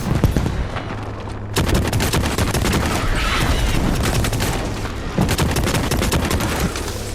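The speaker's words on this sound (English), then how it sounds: "Heads up, grenade out." Grenade blast amid heavy, continuous automatic gunfire in the Starship Troopers: Extermination video game, dense and loud throughout with a sharp surge where new volleys start.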